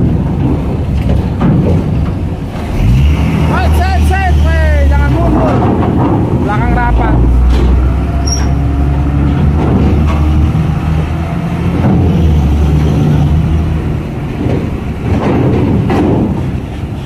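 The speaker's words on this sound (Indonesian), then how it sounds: "Ada bis guys, bis PT Delima Sri Gemilang yang akan naik kapal Prima Fadila." Heavy diesel rumble of a PT Delima Sri Gemilang bus maneuvering onto the ferry KMP Prima Fadila at Merak port, a deep low engine drone swelling and easing, with someone talking and a brief whistle.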